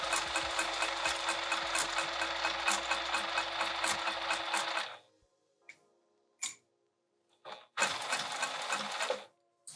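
A sewing machine stitches fabric and lining for a roll-up wrap, running in a fast, steady whirr for about five seconds, then falling quiet apart from a few brief clicks before it starts stitching again.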